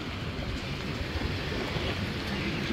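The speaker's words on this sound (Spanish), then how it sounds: "El viento está soplando como a una velocidad de" Strong wind of around 40 miles per hour blows outdoors, a steady broadband rush with low gusty rumble, fairly faint and continuous with no speech.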